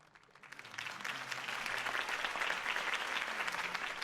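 Crowd applause for Harvey Dent's campaign speech in Batman: The Telltale Series swells from a quiet start into steady, dense clapping that holds loud for several seconds.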